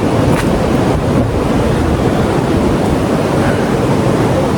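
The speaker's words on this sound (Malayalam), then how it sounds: "ഇതാണ് വെള്ളച്ചാട്ടം" A loud, constant roar of a waterfall on the Agasthyarkoodam trek fills the clip, dense and unbroken, with a gusty wind-like rush over the microphone.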